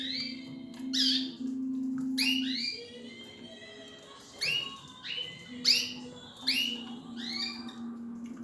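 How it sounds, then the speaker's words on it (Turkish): Pet canaries chirp and squawk in bright, repeated bursts while feeding, with a steady low hum running underneath and no talking. "Kanaryaların mama yemesi."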